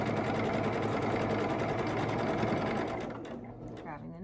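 Sewing machine stitching a quilt block, a steady fast whirring hum running loud and close for about three seconds, then stopping and leaving soft handling noise.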